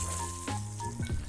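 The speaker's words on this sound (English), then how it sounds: "Let's see if we get that nice perfect sizzle." Vegan steaks hitting hot fat in a frying pan, a short bright sizzle with a few sharp spits and crackles over a steady hiss.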